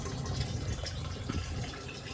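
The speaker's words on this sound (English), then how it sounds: "There's a little bit of a leak coming from there, but not that much. Just a little drip." Water leaks and drips steadily from an olive barrel repurposed as a DIY rain barrel, a continuous close trickle with no pauses.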